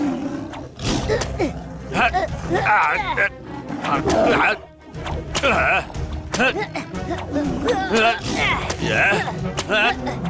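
A cartoon tiger, Shere Khan, roaring and snarling in a Mowgli animation, with repeated loud growling roars that rise and fall over several seconds, close and mixed with animated voices and grunts.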